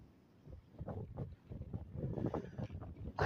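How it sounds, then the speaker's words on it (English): Strong wind blowing at Dublin Airport, gusty rumbling buffets against a microphone outdoors, fairly faint and uneven, rising toward the end. "Yeah, the wind is awful here today."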